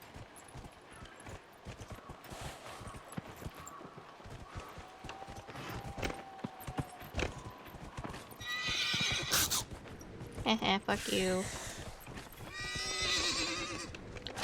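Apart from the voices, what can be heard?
horse hooves and neighing in video game Dragon Age: Inquisition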